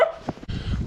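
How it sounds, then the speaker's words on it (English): Several dogs barking on a village street in Bulgaria, a couple of quick close barks and yaps in a short burst against outdoor background noise. "They kind of all started barking"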